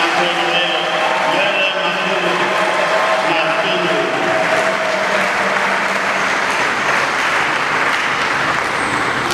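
Mourners at a Catholic funeral for a priest applaud steadily, a thick continuous wash of many hands clapping in a large reverberant space, with voices mixed in throughout.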